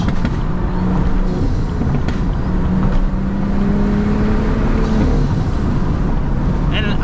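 A Stage 2+ tuned BMW 435i cruising on a curvy New York City highway, giving a steady, loud low engine drone and road roar with wind, a continuous cabin rumble without pauses.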